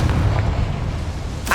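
A Confringo blasting spell goes off in Hogwarts Legacy inside a goblin mine near a boiler, a heavy low boom that rumbles briefly, with a sharp crackle right at the end.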